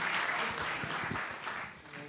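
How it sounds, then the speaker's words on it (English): An audience at a symposium applauds after a keynote lecture by Professor Armstrong. The applause is steady and moderately distant, a continuous wash of many hands that fades slightly toward the end. "let's all round of applause for Professor Armstrong"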